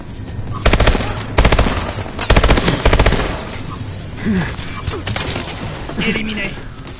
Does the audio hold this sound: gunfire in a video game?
yes